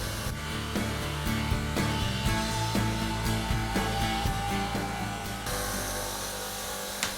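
Stainless steel is buffed on a soft white polishing wheel, a steady motor whine with repeated scraping surges as the metal is pressed against the wheel, fairly close and with no talking.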